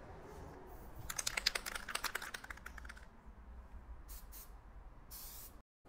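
A spray can lays a coat of Plasti Dip onto Fisker Ocean emblems in short, faint hissing bursts with gaps between them, close by and without talking.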